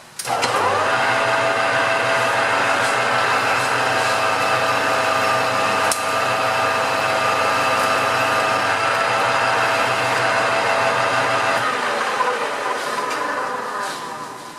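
Lathe running under power with a steady, loud mechanical whine and hum, holding constant tones for over ten seconds before easing down near the end.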